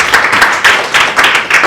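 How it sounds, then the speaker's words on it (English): Audience applause at an exhibition talk, a steady wash of clapping that swells and dips in loose waves, loud and close, with no voices over it. "So I think that deserves a round of applause."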